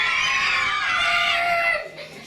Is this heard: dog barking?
no